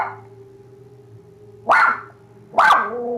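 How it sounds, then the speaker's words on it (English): A scared, stressed dog in a room gives two sharp, loud barks about a second apart, close by, after a quiet stretch with a low steady hum. "Even their dog is afraid. It's always barking like it can see weird things hidden in this room."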